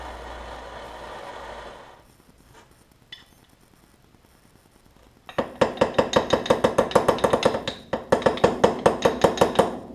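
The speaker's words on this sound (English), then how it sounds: "we pretty much tapped our thrust washer down in place there" A transmission thrust washer is tapped into place during an input shaft rebuild on a DeLorean gearbox, heard as a fast, steady train of sharp metallic taps after a quieter stretch with a few isolated knocks.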